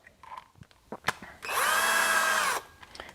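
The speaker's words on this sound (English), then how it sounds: "What I'm going to do one by one, I'm just going to back these screws out." A power drill whirs in one steady burst of about a second, backing screws out of a gun holster, after several light clicks and handling taps close by.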